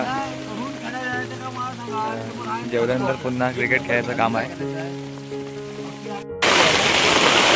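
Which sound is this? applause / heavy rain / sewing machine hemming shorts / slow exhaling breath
heavy rain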